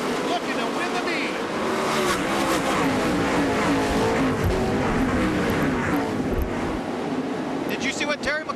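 Sprint cars race in the B-Main at the Knoxville Nationals dirt track event, a continuous loud roar of several engines running together, with a commentator talking over it throughout.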